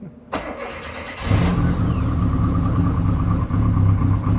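A rally car engine cranks briefly and then catches on choke, settling into a loud, steady, close-up idle with a slightly uneven rumble.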